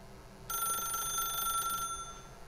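A telephone rings in the video game The Stanley Parable: one bright, steady electronic ring lasting about a second and a half, fairly loud over a low background hum, with no talking.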